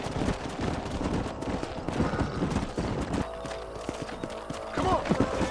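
Horses gallop with quick rhythmic hoofbeats in the Red Dead Redemption video game, a steady clatter mixed with scattered game effects and faint voices in the background.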